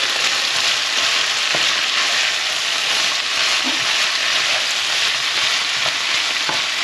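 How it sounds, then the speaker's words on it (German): Vegetables and garlic sizzle in a hot pan while being stirred for a beef goulash with paprika sauce, a dense, loud, continuous frying hiss with occasional faint utensil knocks, close up and without talk. "So, erstmal schön umrühren, damit das Gemüse mitbraten kann."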